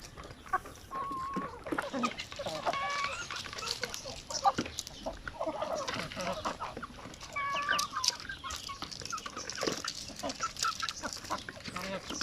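Chickens cluck in short repeated bursts, with scattered clucks and calls over a busy farmyard background, moderately near.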